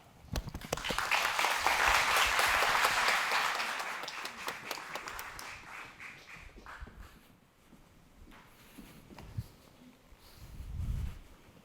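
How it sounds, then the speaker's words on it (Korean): Audience applause at a corporate capital markets briefing as a company chief executive is welcomed, a loud dense clapping that swells over the first few seconds, then thins out to scattered claps and footsteps. "큰 박수로 맞이해 주시길 바랍니다."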